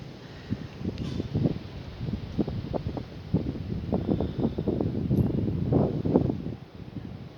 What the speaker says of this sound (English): It didn't even pick up windy like this till this morning.